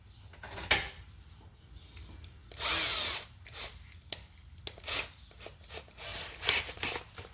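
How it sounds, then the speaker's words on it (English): A power drill with a 1/4 inch bit whirs in short bursts into plastic dashboard parts of an F150, with one longer burst in the middle and scattered clicks and handling noises between. "And then you're going to go to a 1/4 inch drill bit."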